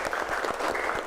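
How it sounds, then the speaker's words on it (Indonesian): Classroom of students clapping hands together, a dense burst of many claps at close range, steady and lively throughout. "tepuk tangan untuk kita semua"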